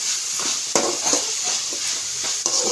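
Onions frying in a pan for pasta give a steady bright sizzle, with several soft stirring scrapes and one or two clanks of a utensil against the pan, close by and without voices.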